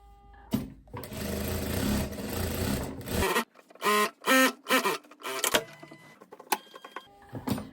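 Bursts of rapid mechanical stitching from a sewing machine gathering a ruffle on a viscose skirt hem, first one long run and then several short stop-start runs with clicks between them, close and clear.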